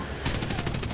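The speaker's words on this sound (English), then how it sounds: "He's starting to shoot!" Enemy plane's machine gun opening up in a combat flight game pitting a G8N against a B-24, a rapid rattling burst that starts abruptly and keeps pulsing steadily over a dense engine drone.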